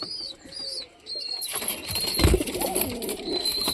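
Pigeons in a loft coo and flap their wings nearby. Soft calls at the start give way to a louder rustle of flapping and shuffling that continues to the end.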